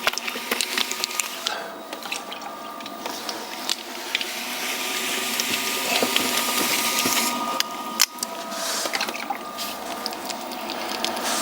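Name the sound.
wet clay being centered on a pottery wheel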